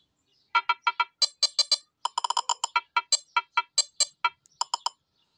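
A custom ringtone composed on a Nothing Phone 2a plays as a string of short, bright electronic beeps in quick rhythmic runs, clean and close against silence.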